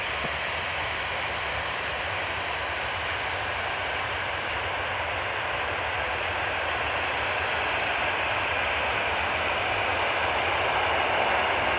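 A Qatar Airways plane on approach to Manchester Airport, a broad steady engine roar that holds at an even, moderately loud level throughout with no voices.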